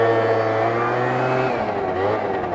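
A pre-bug Yamaha Zuma scooter's small engine drones loud and close during a long wheelie, holding a steady strained pitch before dipping briefly and picking back up.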